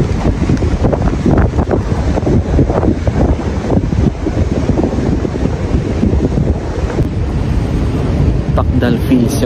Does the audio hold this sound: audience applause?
no